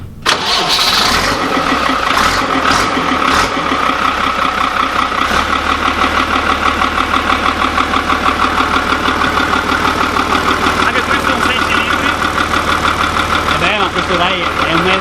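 A Fiatagri 180-90 tractor's diesel engine cranks and catches, then settles into a loud, steady, knocking idle nearby, with voices occasionally heard over it.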